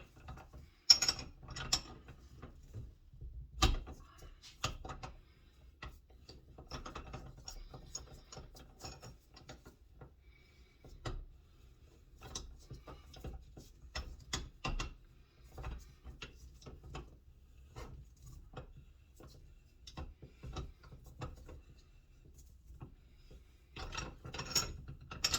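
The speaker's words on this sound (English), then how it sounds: "Let's remove this one, thread ring first." A thread ring comes off a BMW R60/2 motorcycle final drive with faint metallic clicks, scrapes and ratcheting taps scattered irregularly over about twenty-five seconds, quiet and close with no talk.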